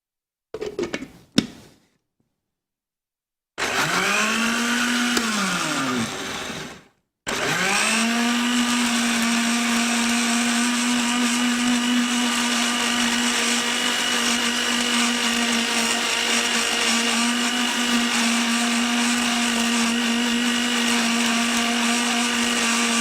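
An electric blender processes a homemade skin-care mixture, starting with a couple of short bursts and then running continuously in a loud, steady whir with a stable motor hum, heard close up with no talking.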